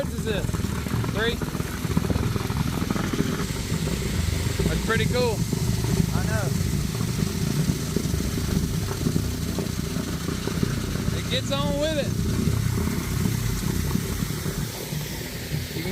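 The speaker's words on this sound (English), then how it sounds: "Turn that truck around. Water's coming that way." A concrete truck's engine runs steadily while pumping concrete to fill in a water well, a loud, continuous rumbling drone with hissing outdoors, as people chat over it.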